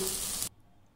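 Onions for a broad bean curry sizzle in a pan, a loud close frying hiss that cuts off abruptly midway, leaving near silence.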